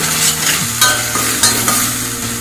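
Masala with a little salt fries and is stirred in a pot for chicken curry, a loud continuous sizzle broken by the scrape and clatter of a spoon against the pot every half second or so.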